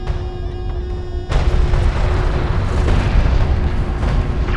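Explosion of a destroyed strike craft in the game Homeworld: Deserts of Kharak: a sudden loud blast that swells into a dense, sustained rumble of battle noise with no voices.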